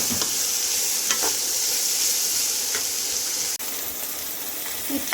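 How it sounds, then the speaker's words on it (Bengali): Bitter gourd and potato pieces with salt and turmeric fry in a pan, a continuous bright sizzle broken by a few soft scrapes as they are stirred. "দিয়ে আর একটু নাড়াচাড়া করে ভাজা ভাজা করব।"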